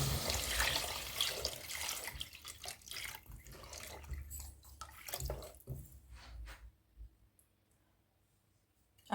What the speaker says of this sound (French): on va rajouter de l'eau dans la casserole